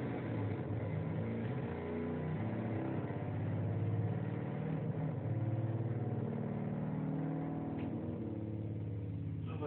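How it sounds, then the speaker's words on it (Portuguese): A car, the speaker's own big car, engine running steadily and pulling away, a continuous mid-pitched drone at moderate loudness with no one talking. "Olha, o cara pega o carro, tá ligado? E vaza"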